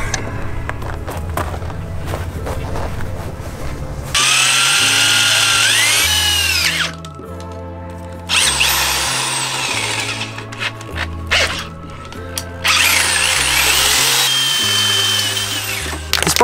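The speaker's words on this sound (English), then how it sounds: "Let's drill some holes." A power drill whirs loudly in several bursts, its pitch rising and falling as it bores holes, with short pauses between runs.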